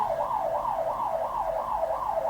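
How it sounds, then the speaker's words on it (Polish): A wailing ambulance siren sweeps steadily up and down in a continuous loop, loud and fairly close. "Mam nadzieję, że tej karetki aż tak strasznie nie słychać, albo nie jest denerwująca przynajmniej."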